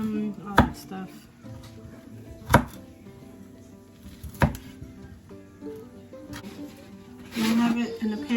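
Broccoli being roughly chopped on a board, a few distinct knife thuds spaced about two seconds apart, close by, with a busier clatter at the end and someone talking throughout.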